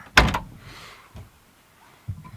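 An old Chevrolet Suburban's door swings shut during snowy winter camping, landing as one loud, close thunk followed by softer rattles and a faint second knock near the end.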